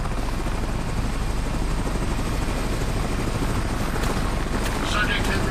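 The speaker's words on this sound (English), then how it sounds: "Sending a damn helicopter to catch me?" Helicopter in the video game American Arcadium, a loud steady rotor thrum and whine running continuously from start to end under the game's other noise.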